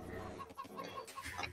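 Chickens clucking in a medieval strategy game as villagers gather them, a soft repeated clucking running steadily through the short stretch with no talk over it.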